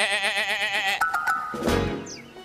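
A cartoon cow lets out an odd, wavering, sheep-like bleat, followed by brief jingly chimes and a sliding cartoon sound effect, all fairly loud and close.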